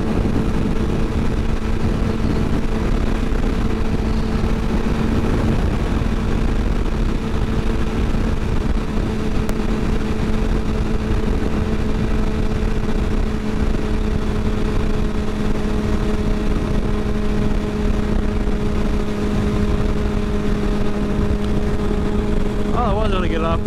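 A motorcycle engine cruising steadily along a road, a constant loud drone with a fixed engine tone and heavy wind rush that holds unchanged throughout, with a voice talking over it.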